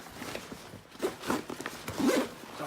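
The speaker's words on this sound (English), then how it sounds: "the zippers are a bit tight" A stiff, tight zipper on an Osprey Transporter Duffel 130L bag being pulled open in several close, rasping tugs of uneven length, each with a scratchy, gritty texture.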